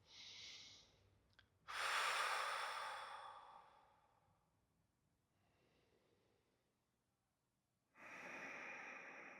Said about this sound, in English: So let's take a few breaths together.